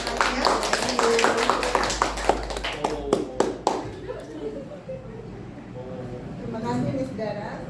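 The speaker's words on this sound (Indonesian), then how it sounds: "beri tepuk tangan dulu Miss Dancer untuk semangatnya" A small group claps briefly for a presenter at a school teachers' dissemination session. A burst of quick, close claps fades out after about four seconds, then a voice begins speaking.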